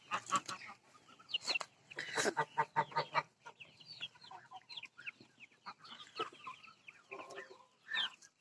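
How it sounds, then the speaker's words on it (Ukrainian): Chickens cluck and chatter in short bursts in a village yard, large chicks, old hens and small chicks close by with overlapping calls and an occasional sharper squawk. "У мене тут як у вулику і крупні курчатка, і старі курі, і маленькі курчатка"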